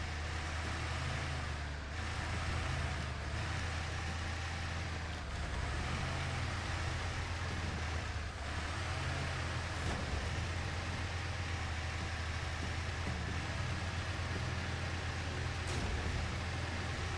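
A truck engine in Expeditions: A MudRunner Game drones and revs under strain, a steady low rumble with repeated short surges and dips as the throttle is hit again and again.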